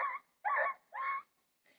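A girl imitates a crying puppy with three short whimpering yelps in quick succession, then a faint fourth, each one close and high-pitched.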